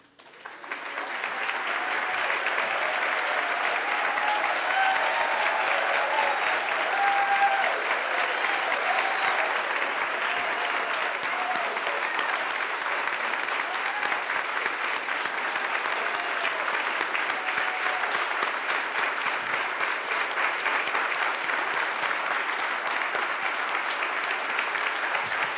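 Sustained audience applause for Girl Scouts being honored at a 2013 presentation and celebration, loud and steady clapping from a large crowd throughout, with a brief swell early on.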